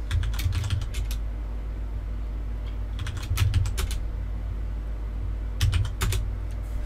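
A short command is typed on a computer keyboard in a Kali Linux terminal, heard as three quick bursts of crisp close key taps separated by pauses over a steady low hum.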